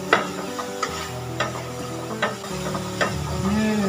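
Cassava leaves stirred and fried in a pan for a daun ubi tumbuk dish: a steady sizzle with repeated scraping strokes of a spatula against the pan at a slow, even rhythm, close and fairly loud, with no speech.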